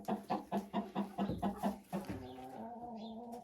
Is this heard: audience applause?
no